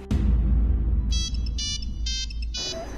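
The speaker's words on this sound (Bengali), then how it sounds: "এখন আবার কে ফোন করলো?" A mobile phone ringtone plays a repeating electronic melody in short bursts over steady low household background noise, fairly loud and close, with no talk.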